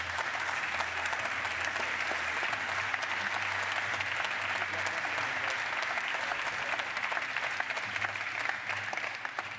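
An audience at the reveal of the TBM 980 aircraft applauds warmly with steady, dense clapping that holds evenly throughout, moderately loud, with a low hum underneath.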